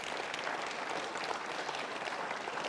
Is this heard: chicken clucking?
no